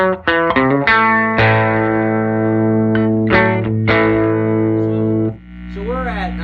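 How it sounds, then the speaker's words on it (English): Electric guitar played on the bridge pickup through a 1968 Fender Vibrolux amp, a run of strummed chords ringing loud and sustained with a driven, effected tone, the last one decaying into a quieter fading ring. "let me just go ahead and strum a little bit."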